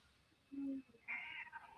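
A cat meows twice, a short low mew followed by a higher, longer meow, close and fairly quiet.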